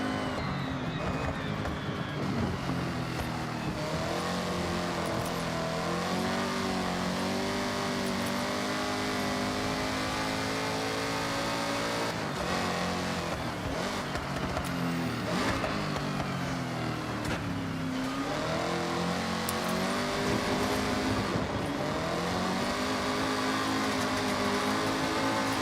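Race car engine from the Forza Horizon video game revs and holds a loud, continuous drone for the whole stretch, rising and dipping in pitch as the car accelerates and eases off, with no talk over it.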